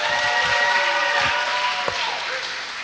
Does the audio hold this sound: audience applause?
yes